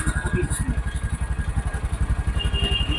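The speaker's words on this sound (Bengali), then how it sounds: "ডিসকভার গাড়ির সাউন্ড যে এত ভালো" A Bajaj Discover motorcycle engine runs at a steady idle, its rapid even exhaust pulses close and continuous, with some faint clatter and no talk.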